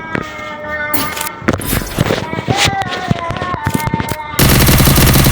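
Rapid bursts of automatic gunfire crackle in a video game training match, loud and dense with sharp repeated shots, while someone talks over parts of it.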